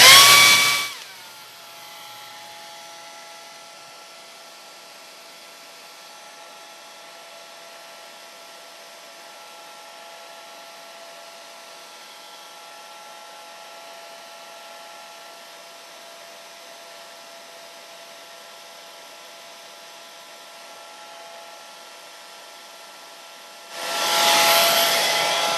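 A hair dryer is drying a watercolor portrait of a cedar waxwing. It roars loudly for a moment at the start and again near the end, with a faint, steady whir running between the bursts and no talking.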